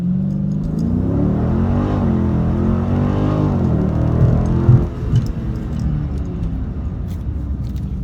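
A 2019 Dodge Scat Pack on Mickey Thompson tires pulls hard in first gear on the street, its deep engine roar climbing in pitch, then a quick drop at the shift before the rumble carries on.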